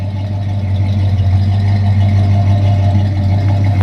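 A 1968 Buick Wildcat custom convertible idles nearby, its engine giving a smooth, steady low rumble with a quiet, even running note and no talk.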